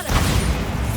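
Bombarda blasting spell cast in the Hogwarts Legacy video game, a loud, dense low rumbling explosion sustained through the whole second with crackling debris on top.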